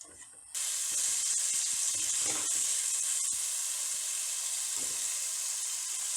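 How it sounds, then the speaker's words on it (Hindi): Half a cup of olive oil with a medium onion on full flame bursts into a loud, steady, hissing sizzle after a brief quiet start, with a faint voice briefly in the background. "हाफ कप जैतून का तेल, एक दरमियानी प्याज फुल फ्लेम पर"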